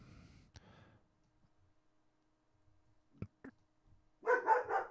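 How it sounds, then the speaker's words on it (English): A pet dog in a home, heard as a short bark at the end with a few faint clicks and breaths before it, quiet and slightly distant. "that's my dog there."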